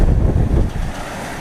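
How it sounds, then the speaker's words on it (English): Sailing off Fiji with 15 knots of wind on the beam, the boat making about 8 knots: steady loud wind rushing over the microphone with the wash of waves along the hull, easing slightly after the first half-second. "Sailing with the wind on the beam."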